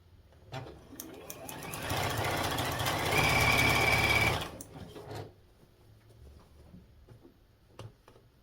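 A sewing machine chain pieces quilt blocks in a short burst of rapid, rattling stitching that runs for a few seconds and stops, followed by faint handling clicks in a quiet room.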